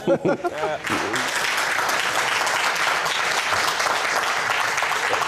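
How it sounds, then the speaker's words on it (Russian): A studio audience on a Russian talk show breaks into loud, sustained applause after a few seconds of speech, the clapping continuing densely and evenly to the end. "Это все тебе все, это не нам, тебе хлопают."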